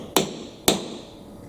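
Two sharp hammer strikes on a 1/8 inch punch marking holes for mounting a flat panel LED light fixture, close and crisp, about half a second apart, with quiet in between.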